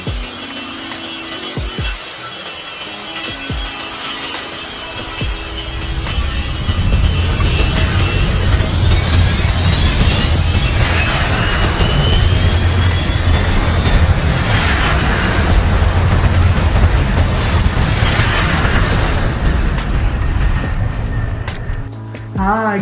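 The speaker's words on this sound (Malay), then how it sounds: "Mesti ramai di antara kita yang pernah menaiki kapal terbang kan?" Airplane taking off from an airport, its engine roar swelling after a few seconds into a loud, sustained jet rumble with a rising whine that holds steady to the end, with some background voices.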